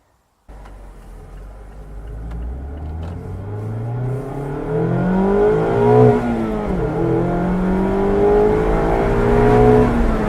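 A 2019 Mazda MX-5 starts abruptly and accelerates hard on the road, its engine note rising through the gears in a series of climbing sweeps with brief dips at each shift, loud and close.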